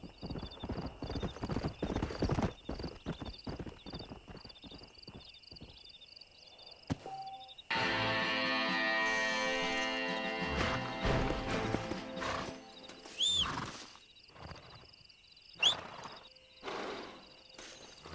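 In a video game, John Marston's stallion clip-clops steadily on hooves with rhythmic thuds, followed by a loud, close whinny and snorts, with mechanical game sounds rattling in the background.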